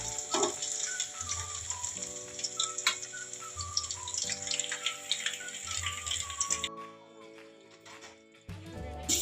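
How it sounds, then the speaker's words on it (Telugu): Chicken kebabs fry in a pan over a medium flame, giving a steady sizzle and crackle throughout, with tonal background music and a brief drop in level near the end. "మీడియం ఫ్లేమ్ పెట్టుకొని కబాబ్స్ని ఫ్రై చేసుకోవాలి."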